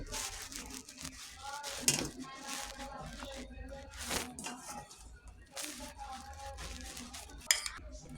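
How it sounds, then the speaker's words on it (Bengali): A spoon mixes yogurt, mint and chopped cucumber in a bowl, with clinks, scrapes and soft wet stirring sounds. Talking can be heard in the background. "চামচ দিয়ে সেগুলো মিক্স করে নিচ্ছি"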